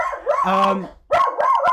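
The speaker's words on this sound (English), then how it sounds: "Let these old dogs out." Dogs barking and howling up close in two loud bursts separated by a short pause, with yips and drawn-out tonal howls and no talk.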